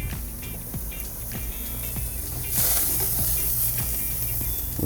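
Meat searing on a stovetop grill, a continuous hiss and sizzle that grows louder partway through, with small pops and crackles scattered across it and no talking.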